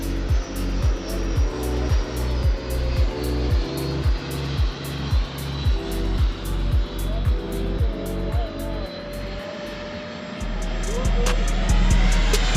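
A group of RC model jets flies fast overhead, their turbine whine sweeping past in a steady roar, with a rhythmic pulsing rumble early on that fades, then a louder closing rush.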